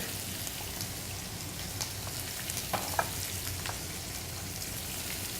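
Thin onion strips seasoned with salt and pepper sautéing in a pan, a steady close sizzle with a few small pops and crackles scattered through, no talking.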